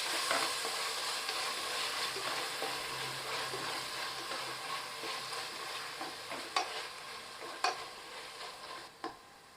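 Tomatoes stirred into softened onions in a pan while cooking Ambur chicken biryani, giving a steady close sizzle and fry with scraping stirs and a few sharp utensil taps near the end.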